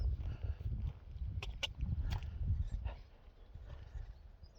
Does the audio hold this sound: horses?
yes